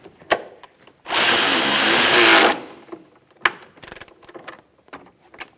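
A power tool tightens a strut bolt on a 2012-2018 Ford Focus front strut and spring assembly, with one loud continuous whirring run of about a second and a half, set between sharp metallic clicks and knocks from handling parts close by.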